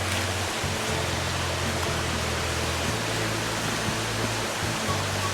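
A hidden waterfall pours over rocks, a loud, continuous, close roar of rushing water that fills the whole stretch without pause, with no voices over it.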